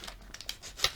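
Small scissors snip open a Pokémon booster pack, giving a quick series of faint, close crinkles and soft cuts, ending in a sharper crisp snip.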